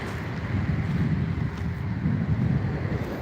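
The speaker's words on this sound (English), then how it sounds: "I love the smell of the ocean and the sound of the waves." Steady low surf and ocean wash at a beach during agate hunting, a continuous broadband roar heavy with wind buffeting the microphone and no talk.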